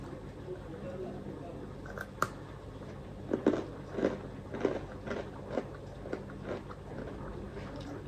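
A crunchy Christmas cookie is bitten and chewed, giving a series of close, crisp crunches in an uneven rhythm over a steady background hiss.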